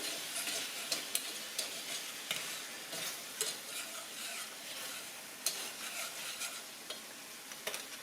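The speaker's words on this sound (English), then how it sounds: "Getting all that good stuff off the bottom of the pan." Browned bits scraped off the bottom of a frying pan holding hamburger meat and onions, heard as repeated close scraping and stirring strokes over a continuous soft sizzle.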